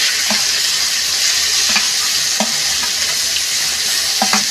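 Tomato and ginger hit hot oil with already fried potatoes for a vegetarian cauliflower curry, giving a loud, steady sizzle broken by a few sharp spatula clinks spaced through the clip.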